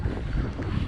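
Wind gusting at a pond on a rainy day, a steady broadband rush and low rumble of wind buffeting the microphone, loud and continuous with no talk.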